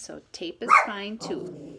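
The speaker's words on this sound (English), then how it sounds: "That's my dog barking right now." A dog barks a few times nearby, its short yelps mixed under a person talking in a home setting.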